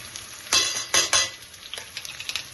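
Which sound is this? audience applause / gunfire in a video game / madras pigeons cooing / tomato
tomato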